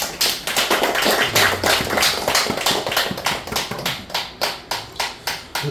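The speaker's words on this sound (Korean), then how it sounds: "박수 한번 쳐요, 박수." A church congregation gathered for a thanksgiving service applauds in a steady burst of rhythmic clapping, loud and close, gradually thinning and softening toward the end.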